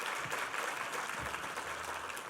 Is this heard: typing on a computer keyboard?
no